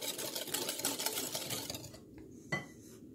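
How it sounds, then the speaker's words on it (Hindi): A hand whisk beats a sugar batter in a bowl for a gluten-free black forest pastry. Rapid, rhythmic metallic clatter and scraping go on for about two seconds, then stop, followed by one light knock. "ये हाथ वाली विस्क से ही बन जाता है।"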